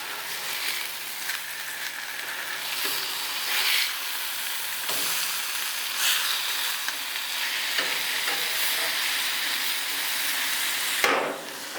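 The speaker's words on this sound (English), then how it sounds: "We're cooking porterhouse steak" Porterhouse steak on a barbecue grill at a Saturday night cookout, a loud continuous sizzle with scattered crackles and pops, with no voices.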